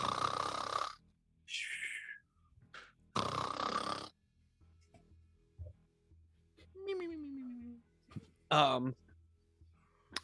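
A voice imitates snoring, as if asleep on a plane ride, with a few raspy breathy snores and grunts spaced across the stretch, mixed with other vocal noises and pauses.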